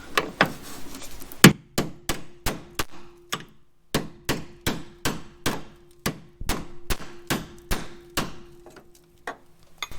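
A hammer strikes a door hinge pin on a Chevy Nova repeatedly, about twenty sharp ringing clangs in a steady rhythm with one brief pause, close and loud.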